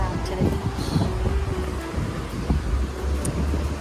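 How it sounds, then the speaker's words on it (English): Steady wind buffeting the microphone outdoors on a beach in Tarragona, Spain, a continuous low rumble with gusty noise and faint background sounds throughout. "It's kind of windy"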